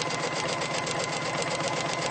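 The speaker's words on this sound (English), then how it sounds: "So I've sewn my line" A sewing machine runs steadily, stitching a paper-pieced seam for a snowball quilt block, a close, continuous, even whir with no talking.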